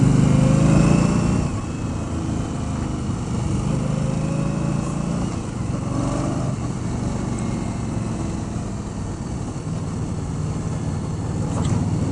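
2019 Indian Scout Bobber motorcycle engine droning steadily and loud while riding, with rev changes around a missed gear shift and wind noise, no talk.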